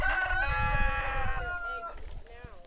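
Laying hens and chickens on a farm give a drawn-out rooster-like crow followed by softer clucks and calls, close and fairly loud, with a voice faintly present underneath.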